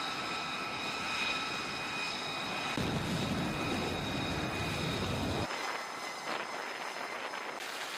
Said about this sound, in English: showing some of the aircraft on board the USS Abraham Lincoln taxiing along the flight deck and taking off from the Lincoln